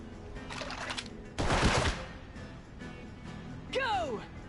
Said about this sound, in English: Now let's try shooting.